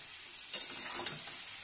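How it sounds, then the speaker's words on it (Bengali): Tomatoes go into a frying khichuri base in the pan, giving a soft sizzle with two brief louder bursts as they land and get stirred. "এবার একটু আমি টমেটো দিয়ে দিই"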